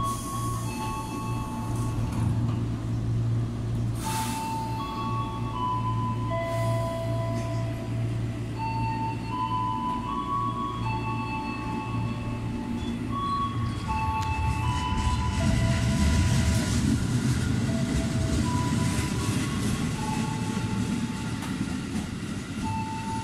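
A KRL Commuter Line electric train departs Daru station with a steady loud mechanical hum and rumble, rising clatter of wheels as it moves, and faint tonal electric whines drifting up and down.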